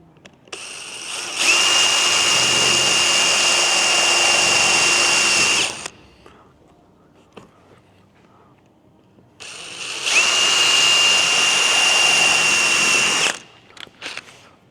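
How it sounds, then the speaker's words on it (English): A power drill whines loudly drilling a car bumper on an MK5 Caddy van, two long bursts of about four seconds each, steady high-pitched motor tone, with a short quiet gap between them. "Time to drill someone's expensive bumper."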